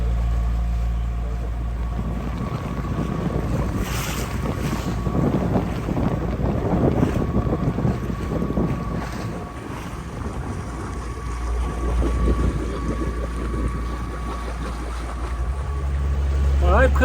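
Sailboat running under engine with the genoa set, leaving an island in Greece: steady low engine drone and hull-water rush under constant wind buffeting on the microphone, continuous and close throughout.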